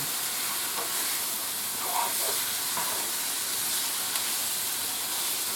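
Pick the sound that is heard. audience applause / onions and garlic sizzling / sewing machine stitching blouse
onions and garlic sizzling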